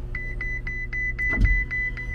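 A 2016 Ferrari 488 GTB power window runs in a short, quiet whir over a steady electronic beeping chime inside the car, with a brief thump near the end.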